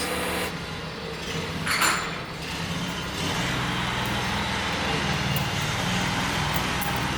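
A riding lawn mower engine runs continuously in a workshop, a steady rough drone that holds level, with a brief clatter near the start and no talk.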